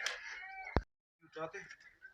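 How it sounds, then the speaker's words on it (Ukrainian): Nasal duck quacks sound in short bursts in a village yard, broken by a sharp knock and a moment of silence before the squawking resumes. "Вон, качки кричать."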